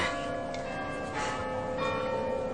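Church bells ring steadily, their layered tolls resonating at moderate volume and overlapping continuously without any voices.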